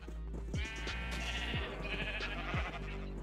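Sheep in Minecraft bleat three times at roughly one-second intervals, short nasal calls over a steady low background hum, fairly close and clear with no talking.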